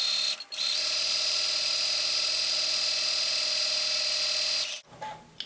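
Sewing machine stitching a smooth satin stitch on a table topper, a steady, loud, continuous motor whir running for about four seconds before stopping abruptly, with a brief clunk at the end.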